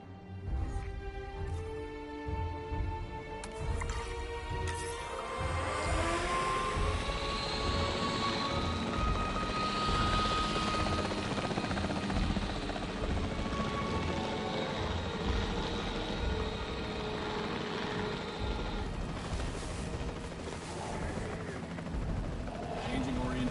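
Capture team helicopter in the Jurassic World video game, a steady loud rotor and engine drone running throughout with bursts of gunfire-like impacts and tonal game sounds layered over it.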